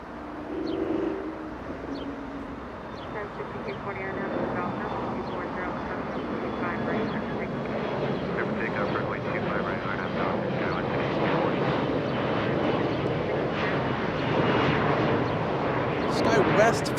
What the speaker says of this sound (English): United 2674 flying from Newark, New Jersey. It's a 777-200 arriving in only 3 minutes.